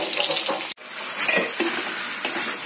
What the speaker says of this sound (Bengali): আলুটা আগে একটু লাল করে ভেজে নেব।